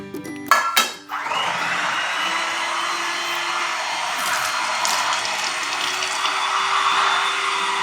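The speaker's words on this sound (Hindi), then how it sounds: "इसको ब्लेंड कर दो" Blender whirring steadily as it blends a cheesecake mixture with lemon zest added, starting after a couple of brief knocks and running loud and continuous without pause, no talking over it.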